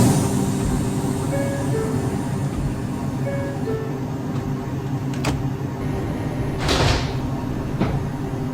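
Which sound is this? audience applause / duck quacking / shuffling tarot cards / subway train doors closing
subway train doors closing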